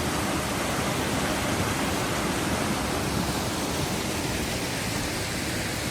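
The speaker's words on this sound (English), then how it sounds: "We've got an onsen waterfall." A steaming hot spring waterfall in the onsen town of Kusatsu roars in a steady, dense rush of falling water, loud and continuous with no voices over it.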